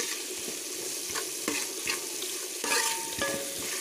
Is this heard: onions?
yes